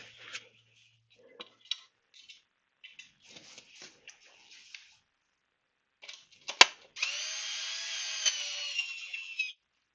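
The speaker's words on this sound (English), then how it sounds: "Just pull these screws down below the surface of the wood." A power drill drives screws into wood on a bike lift, pulling them below the surface: faint scattered clicks and brief bursts first, then a sharp knock and a steady whirring run of several seconds close by.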